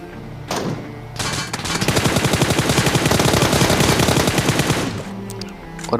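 Rapid automatic MK rifle fire in a shooting video game, a dense sustained burst of close, loud shots lasting several seconds, with no talking.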